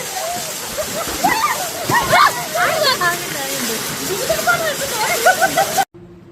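Waterfall at Gajapathinagaram, a constant loud rushing roar heard close under people talking, cut off abruptly near the end.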